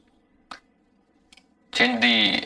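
Two short, crisp computer mouse clicks sound alone in a quiet room, followed by a person speaking.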